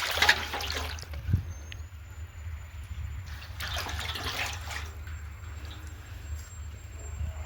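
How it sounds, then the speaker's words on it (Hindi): Water trickles and splashes as a tub is washed in an open courtyard, a soft, uneven run of splashes and drips over a low background rumble, with a faint high tone lingering. "ये टब धोने का है, तो धो देते फटाफट।"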